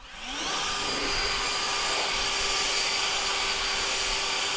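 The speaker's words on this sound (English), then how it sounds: "I'm gonna blow the dirt out of the edge first." A leaf blower spins up and then holds a steady loud whining roar as it blasts dirt out of a lawn edge, alone without talk.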